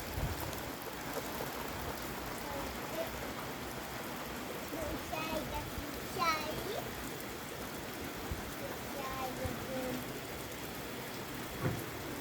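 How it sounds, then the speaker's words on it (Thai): Steady rain hisses across the whole stretch, with faint scattered drips and some indistinct voices in the background. "ฝนตก"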